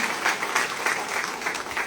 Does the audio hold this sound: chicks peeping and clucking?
no